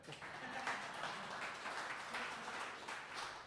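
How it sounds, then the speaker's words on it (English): Faint indoor audience applause at an evening tech talk, a steady wash of distant clapping with no clear individual claps, low in level throughout. "Applause? Yeah."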